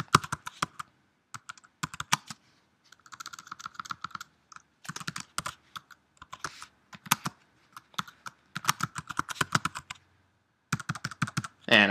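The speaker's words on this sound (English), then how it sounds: "we would simply begin typing about what we learned" Close, crisp clicking of a computer keyboard in irregular bursts of typing separated by short silent pauses.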